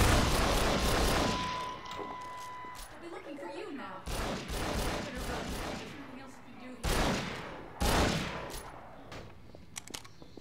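Heavy pistol shots from a Desert Eagle in the Half-Life 2 Synergy co-op mod, loud sharp bursts that come at intervals across several seconds, with an initial sustained volley, while players talk in between.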